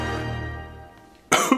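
Sharp cough from someone eating a dark chocolate truffle dusted with baking cocoa, a sudden loud burst with a second smaller hack right after, close to the mic following a quieter stretch.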